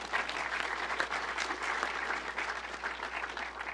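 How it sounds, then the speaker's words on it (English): Steady applause from an audience, a dense wash of clapping at an even level throughout, with no talking over it. "How about a round of applause for Liam?"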